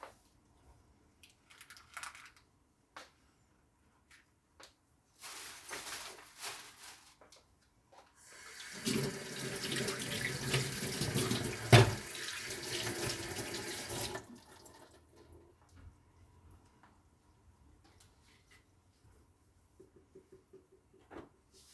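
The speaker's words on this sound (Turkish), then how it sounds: "Tezgahımızı temizleyelim güzelce." A kitchen tap runs water into the sink for several seconds while a countertop is cleaned, with faint handling clicks and knocks before and after in a quiet room.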